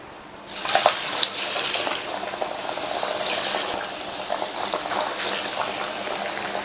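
Mixed dal vadai dropped into hot oil in a kadai, giving a steady bright sizzle and crackle that starts abruptly and continues without pause, close and fairly loud.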